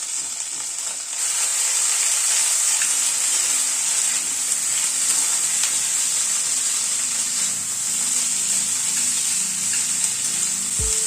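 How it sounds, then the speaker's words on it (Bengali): Mixed vegetables, including drumsticks and sweet potato, sizzle in a frying pan with a spoonful of ginger paste, a steady bright hiss of frying with faint scrapes of stirring throughout and a sharp knock at the very end. "আদা বাটাটা দিয়ে ভালো মতো একটুখানি নাড়াচাড়া করলাম"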